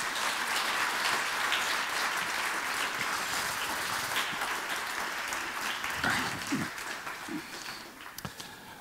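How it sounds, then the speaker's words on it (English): Sustained audience applause at a university talk fills the room as steady dense clapping, thinning slightly near the end with a few louder individual claps. "Please, a warm applause"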